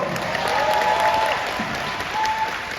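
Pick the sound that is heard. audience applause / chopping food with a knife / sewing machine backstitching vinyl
audience applause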